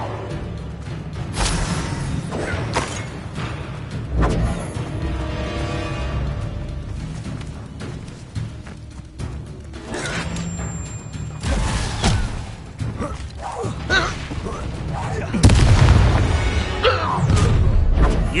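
Spell blasts from the video game Hogwarts Legacy, Depulso and Confringo cast in a ship battle: repeated booming impacts and crashing bursts, loud and close, with whooshes and rumbling effects and game dialogue between them.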